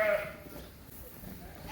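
Sheep bleat in a pen on a farm, one loud close call at the start with fainter flock sounds behind, amid steady background noise.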